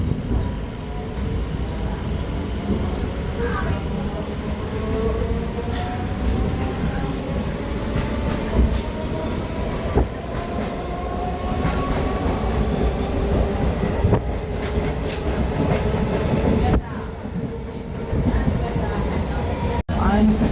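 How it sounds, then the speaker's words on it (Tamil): A Chennai suburban local train rumbles steadily with rhythmic wheel clatter and faint squeals as it pulls away from a station, loud and continuous throughout. "ட்ரெயின் இப்போது முப்பாநகர் ரயில்வே ஸ்டேஷன் வந்து டிபார்ட் ஆகிடுச்சு"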